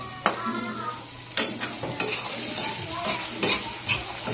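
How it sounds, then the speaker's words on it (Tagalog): Garlic and onion sautéing in a hot pan, stirred with scraping utensil strokes over a steady close sizzle, with several sharp clanks and stirs recurring every half second or so. "Ginisa ko muna sa bawang at sibuyas"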